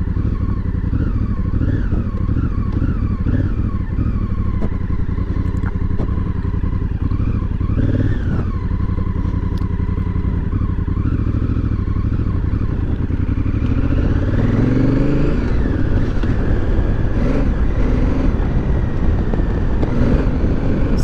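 A Honda CRF1000L Africa Twin motorcycle engine roars steadily up close, revving up and down through the gears with a loud, continuous drone.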